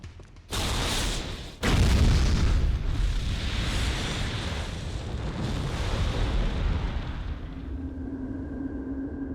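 Maximum-power weapon fired in a village in the Jak 3 video game, a sudden loud blast followed by a second bigger boom and a long rolling, rumbling explosion that slowly fades.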